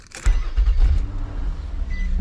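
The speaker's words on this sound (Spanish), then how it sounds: "vamos a encender el carro" An Infiniti i35 engine cranks and catches after a click, then settles into a low, steady idle rumble. The engine is close and fairly loud, with no talk.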